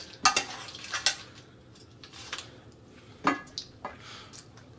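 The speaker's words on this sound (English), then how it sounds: "I am now going to sprinkle some of the juices that were generated while cooking in the oven" Oven juices spooned over baked sea bream with cherry tomatoes in a baking dish: scattered metallic spoon clinks and scrapes with faint wet sloshing, close and fairly quiet, with no speech.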